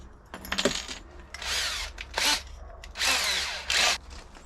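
A power drill with a small 7 mm bit whirs in several short bursts, revving up and stopping, with faint clinks of metal between runs, while fitting water tanks in a camper van.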